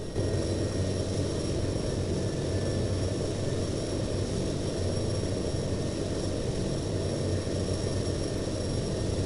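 Steady, loud aircraft engine drone fills the whole stretch as a plane taxis toward the runway in the flight simulator game Fly! II, a continuous broadband roar with faint tonal whine and no voices.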